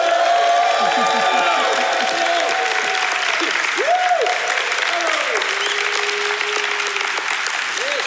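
A live studio audience at a leadership podcast recording applauds and cheers, with sustained clapping under excited whoops and shouted greetings from the crowd.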